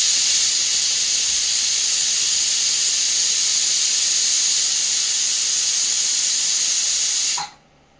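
A pressure cooker vents steam after five whistles, cooking dal, a loud, steady, continuous hiss held for about seven seconds before cutting off abruptly.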